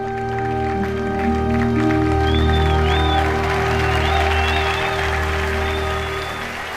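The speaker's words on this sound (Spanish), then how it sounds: "el aplauso para todos los que siembran y hacen esto posible" An audience at a Dante Gebel sermon gives sustained, dense applause for several seconds, swelling and then easing slightly. Steady held tones sit underneath.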